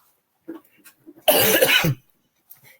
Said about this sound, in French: j'ai bouché mon micro le temps de tousser